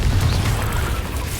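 A Confringo blasting spell in Hogwarts Legacy goes off as a heavy, rumbling boom that holds loud and steady for the short stretch, with no voices over it.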